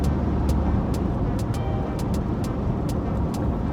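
Car driving on the road just after a transmission shudder-fix treatment, with a steady broadband road and engine rumble and faint periodic ticks, continuous and fairly close, no voices.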